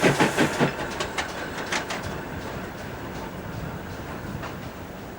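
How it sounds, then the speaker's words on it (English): A grimy Churchward small prairie steam locomotive, number 4593, shunting a parcels train in extensive sidings, a few rhythmic heavy chuffs at the start followed by steady rolling rumble and faint clanks from the wagons. "A grimy Churchwood-designed small prairie, number 4593, was shunting a parcels train in the extensive sidings"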